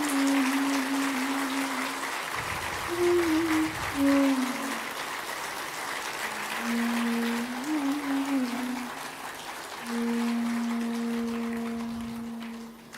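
An audience at a spiritual gathering claps in a steady, rain-like patter that rises and falls, while sustained sung or chanted voices carry over it throughout.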